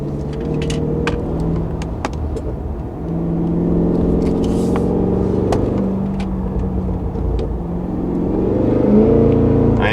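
A 2023 Cadillac Escalade-V in V mode accelerating hard along a cliffside road, with a deep engine drone rising and swelling in pitch through several pulls, heard from inside the cabin with no talking.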